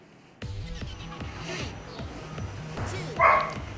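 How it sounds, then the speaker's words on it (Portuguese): A neighbour's dog barks repeatedly at a distance, its yips and bow-wows carried over a looping rhythmic background sound, with a sharper, louder bark near the end. "esse cachorro do vizinho fica latindo"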